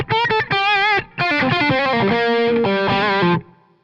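An electric guitar driven through a J. Rockett The Dude overdrive pedal plays a short melodic phrase of sustained, singing distorted notes and bends, loud and up close, ending on a fading note.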